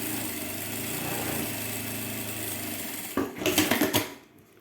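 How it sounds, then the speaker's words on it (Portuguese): A sewing machine with a presser foot set to stitch length 3 sews fabric for a wallet with a low, steady motor whir, followed by a short louder burst of rapid stitching near the end. "com um pezinho de máquina, no ponto 3, eu vou passar uma costura"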